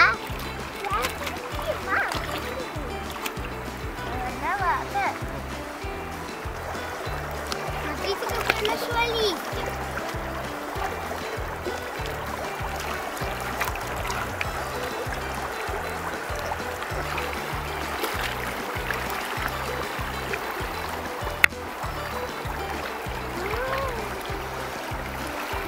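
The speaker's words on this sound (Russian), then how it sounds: "Вот такая у нас речка рядом с домом, с большим течением" A fast, strong-current mountain river in the Altai, with steady rushing water and repeated splashing as someone wades through it, and someone talking over the flow.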